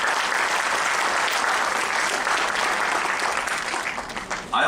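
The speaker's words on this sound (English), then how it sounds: "So let us give him a big round of applause for being here at CIMP." A big round of applause from the audience at a leadership lecture at CIMP, dense and steady and close, holding at full strength for several seconds before dipping near the end.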